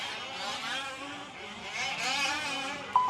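A 1/5 scale gas-powered RC buggy races down the front straightaway of a dirt track, its small engine giving a steady, loud, high-pitched whine that swells slightly as it passes close by.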